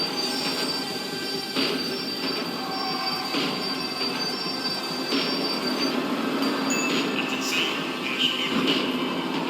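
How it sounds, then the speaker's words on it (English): A slowing tram's wheels squeal in a steady, loud metallic screech with sustained high tones across the whole stretch, over rumbling rail noise and faint background voices. "The tram was slowing down"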